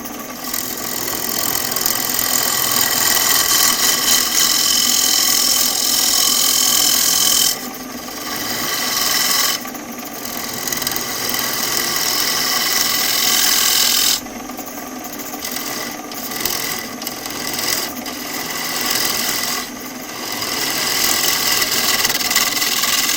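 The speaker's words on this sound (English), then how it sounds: "And I'm just cutting from the center out, just hollowing out the box." A woodturning tool hollows the inside of a wooden box on a lathe, cutting from the center outward with a continuous loud scraping rasp over the motor hum, broken by a few short pauses as the tool lifts away.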